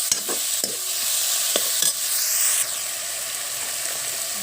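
Chopped banana flower frying in hot oil in a pan while being stirred, a steady sizzle broken by several sharp scrapes and clacks of the spatula against the pan, close and fairly loud, no talk.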